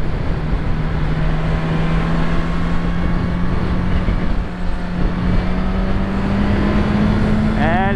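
A 2022 Suzuki Katana naked motorcycle cruises on a highway into the wind, its engine holding a steady droning hum beneath loud, constant wind rush buffeting the rider throughout.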